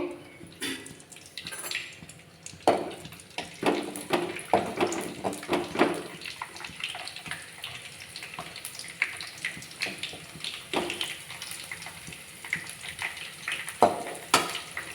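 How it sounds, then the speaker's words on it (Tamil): Thalippu vadagam fries in hot oil with irregular crackling bursts and popping over a low, steady sizzle, close by and moderately loud throughout. "முதல்ல நம்ம தாலி போடத்தை பொறித்து எடுத்துக்கலாம்"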